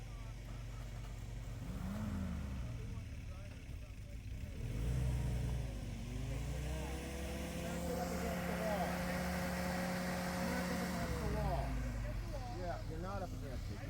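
A flat fender Jeep's engine revs and strains on a rocky off-road trail, rising and falling in pitch over several seconds while people talk nearby.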